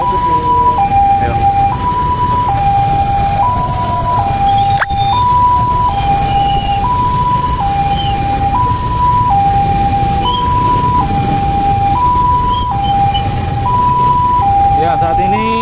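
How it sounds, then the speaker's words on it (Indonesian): An ambulance carrying the body of a former mayor of Tarakan sounds its two-tone siren, alternating steadily and loudly throughout over traffic rumble during a funeral procession. "saat ini mobil ambulans yang membawa almarhum Bapak Dr. Haji Yusuf SK sedang bertolak menuju Masjid Bandara"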